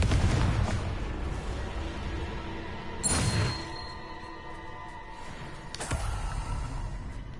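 A Confringo blasting curse explodes in the Hogwarts Legacy video game, a loud booming blast followed by rumbling debris and a second, smaller burst.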